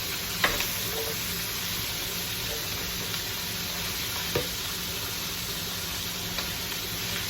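Meat for rib tips sears in a hot pan with a steady, even sizzle and hiss that carries right through, and a few faint clicks and scrapes come from the pan.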